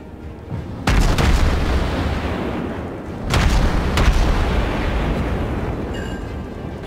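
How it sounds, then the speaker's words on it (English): A Mikhail Kutuzov warship fires HE shells in World of Warships. Three heavy booming salvos roll out one after another, each with a long, rumbling decay over a steady background roar. "Oh my god, I'm shooting HE."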